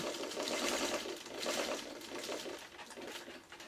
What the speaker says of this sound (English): I'm going to make my first sewing line 1/4 inch away from where I need to start